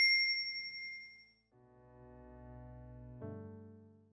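A bright notification bell dings once and rings out, then gives way to lower, sustained synth tones that step up in pitch near the end.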